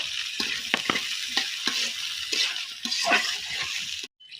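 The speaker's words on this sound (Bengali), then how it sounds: "এবার ভিতরে দিয়ে দেবো কাঁচামরিচ ফালে আর দিয়ে দেবো রসুন কুচু এবার এগুলো দিয়েও আমি কিছুক্ষণ ভেজে নিব" Slit green chillies and chopped garlic sizzle in hot oil in a pan, a steady close crackle broken by a few stirring scrapes. The sound stops abruptly near the end, and no one speaks.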